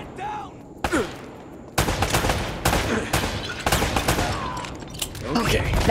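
Gunfire in the Uncharted video game, a series of loud, sharp shots and short bursts in quick succession with echoing tails, and a player's voice heard between them.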